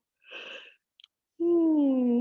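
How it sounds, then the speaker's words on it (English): A person yawns during a strap-assisted yoga stretch: a breathy intake, a small click, then a long voiced drawn-out exhale that slides slowly downward, close and fairly loud in an otherwise quiet room. "Just ignore that yawn."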